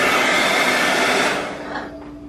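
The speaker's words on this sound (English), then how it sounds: "In between each color, we use the blow dryer just to make sure they didn't smudge each other's color." A blow dryer runs steadily, close and loud, drying paint, then its airflow eases off toward the end with no talk over it.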